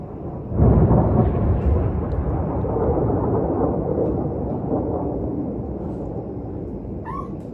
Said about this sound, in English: Can you hear these ballistic missiles?